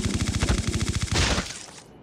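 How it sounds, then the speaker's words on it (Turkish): Rapid automatic gunfire rattles in a fast, even burst from a weapon in Call of Duty Mobile, loud and close, ending in a brief heavier blast that trails off. "Şuralardan silah sesleri geliyor"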